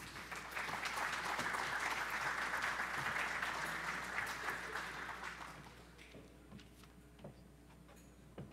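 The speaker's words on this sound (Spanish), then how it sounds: "Recibamos con un caluroso aplauso al señor Edgar Ortegón Quiñones." An audience applauds to welcome a speaker at a conference on Latin American politics and economics, a steady dense patter of many hands that fades after about six seconds into scattered claps and room noise.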